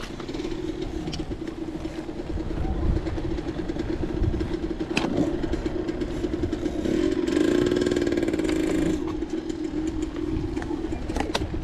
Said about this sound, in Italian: Moto intruse.